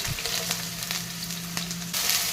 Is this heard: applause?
no